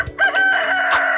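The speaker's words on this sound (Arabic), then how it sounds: "Rooster." A single rooster crows loudly and close, one sustained cock-a-doodle-doo call filling the moment with no talk.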